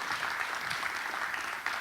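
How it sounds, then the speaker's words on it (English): An audience at a conference gives a steady round of applause, a dense wash of many hands clapping continuously throughout, with no voices. "Let's give him a round of applause."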